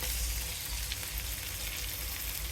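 Cumin, ginger and coriander pastes fry together in a pan for a curry of green banana and catla fish, a loud, close, continuous sizzle with no pauses and no voices.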